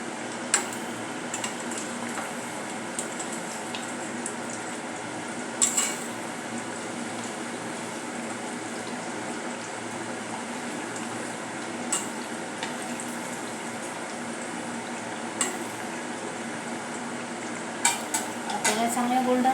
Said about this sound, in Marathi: आता आपण थोडे थोडे करून तळून घेऊया यावर तेल उडवत उडवत आपल्याला तळायचे आहे